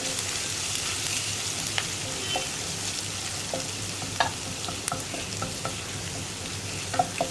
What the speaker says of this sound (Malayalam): അപ്പോൾ കുറച്ച് എണ്ണ മാറ്റിയിട്ട് ബാക്കിയുള്ള എണ്ണയിലാണ് ഇത് ഫ്രൈ ചെയ്യുന്നത്.